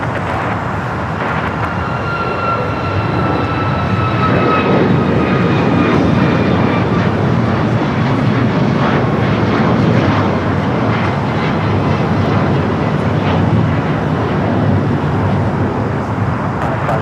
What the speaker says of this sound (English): That was Alaska flight heading to Cabo, flight 1360, a 737 MAX 9.